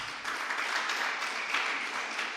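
Sustained applause from an audience at a Jain monk's religious discourse, a dense, steady clatter of clapping hands that carries evenly through the whole stretch without any speech.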